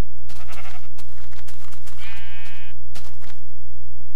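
A Minecraft sheep bleats in the game, giving a loud wavering bleat close up over a constant low electrical hum and faint scattered clicks, with no speech.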